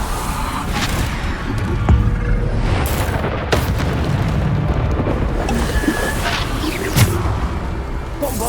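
Bombarda blasting spells in the video game Hogwarts Legacy boom loudly over a dense, continuous wash of rumbling game noise, with sharper bursts standing out near the start and again toward the end.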